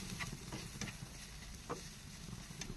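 Egg samosa masala gets stirred in a pan, with soft scraping strokes and a faint sizzle of frying under low kitchen background noise, quiet and unhurried.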